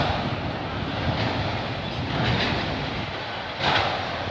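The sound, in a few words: GO train passing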